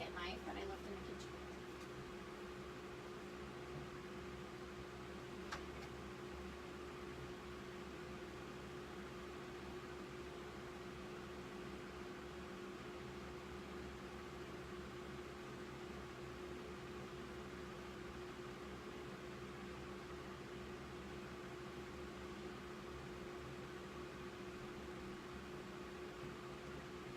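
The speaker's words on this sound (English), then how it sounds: "Let me stick it under this little bitty fan right here and it'll be ready in about 2 seconds." A small electric fan hums steadily throughout, a constant whirring drone used to dry a glitter waterslide decal, with a brief faint click near the start and no talking.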